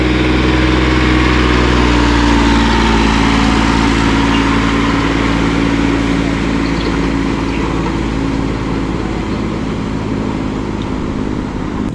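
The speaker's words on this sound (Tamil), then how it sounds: "இப்போ அந்த டிராக்டர் போனதை பாருங்கள் அப்படியே முக்குது." A tractor pushes through deep flood water during a cyclone in Vavuniya, Sri Lanka, its engine a loud, steady low rumble with churning water, constant from start to end.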